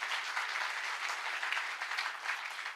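Audience at a business success-story event applauding a guru seated in front, steady, even clapping from a crowd heard at moderate distance.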